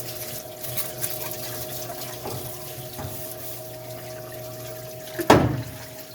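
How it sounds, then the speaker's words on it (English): Car bearing parts from a 1979 Mercedes 300SD are cleaned in a parts washer: a low pump hum runs underneath faint dribbling liquid and a few clinks, ending in a short, loud splash. "let's go ahead and clean this up in the parts washer."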